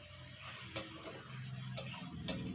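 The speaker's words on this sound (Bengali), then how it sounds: "টমেটোটা দিয়ে দিচ্ছি।" Chopped tomato dropped into a spice masala frying in a pan for chicken curry, giving a steady low sizzle with three sharp clinks of a utensil at even spacing, no voices.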